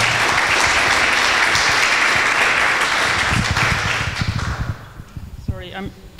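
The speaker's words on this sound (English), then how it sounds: "So please, for some applause" An audience at a panel discussion on data protection and intelligence services applauds loudly and densely, then the clapping thins and fades out toward the end as a voice begins speaking.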